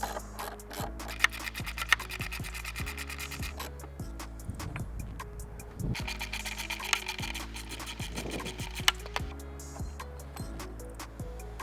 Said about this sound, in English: next we're going to take out these big tall screws that hold the battery brackets on